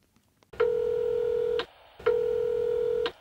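Two identical electronic telephone answering-machine beeps, each a steady pure tone lasting about a second, clear and close with a brief gap between, no voices.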